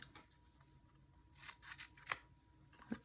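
Scissors snipping out stamped paper doll pieces: quiet, close, irregular little cuts and paper rustles, alone without talk.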